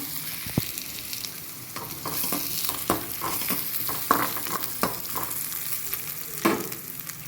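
Spices and half an onion for tempering sizzle in hot oil, a soft steady crackle punctuated by repeated clicks and scrapes of a stirring spoon against the pan.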